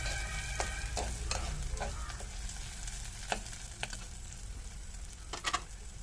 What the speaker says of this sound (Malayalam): ഇതിലേക്ക് കുറച്ച് കറിവേപ്പിലാണ് ചേർത്ത് കൊടുക്കുന്നത് എന്നിട്ട് ഒന്നും കൂടി ഒന്ന് ഇളക്കി